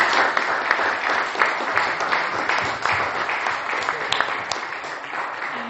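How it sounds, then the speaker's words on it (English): Sustained applause from an audience honoring a panel of speakers at a talk on nuclear energy, a steady wash of many hands clapping at even volume with a few sharper claps standing out. "who we should give a round of applause"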